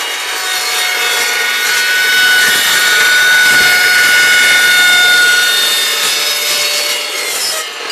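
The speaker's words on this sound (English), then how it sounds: "we're going to be cutting through some aluminum." Evolution RAGE2 chop saw cutting steadily through aluminum, a loud continuous rasping whine with a metallic ring, holding at full intensity for the whole stretch before easing slightly at the end.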